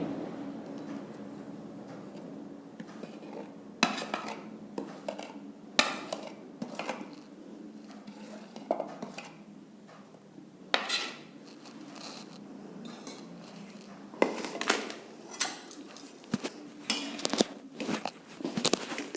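Wheat flour dry-roasted on a low flame in a heavy-bottomed kadhai, with a spoon scraping and knocking against the metal in irregular clinks and scrapes that are fairly quiet throughout.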